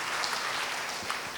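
A church congregation gives brief, sparse applause during a Sunday service, soft and fairly even, ending in a slightly louder clap.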